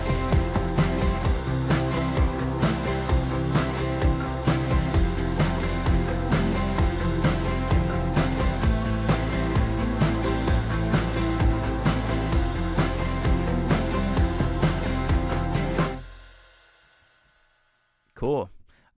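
A heavily processed lead from a pop beat, loaded with effect plugins, plays over a dense full mix that cuts off abruptly, leaving a brief silence before a short warbling tail.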